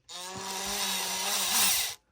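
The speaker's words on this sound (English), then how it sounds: "So what I like to do is I get my drill and I take the screw out" A cordless drill spins up to back a screw out of a 3D printed plastic part, a loud steady whine lasting about two seconds, rising slightly near the end before it cuts off abruptly, with no talking.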